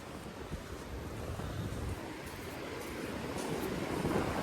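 Wind blows at a shopping area, a continuous rushing rumble buffeting the microphone, gradually growing louder with no voices.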